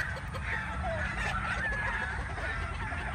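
Pure Bruce Barnett Sweater gamefowl chickens on a breeding farm, with close, loud clucking and honk-like calls over a steady low farmyard rumble.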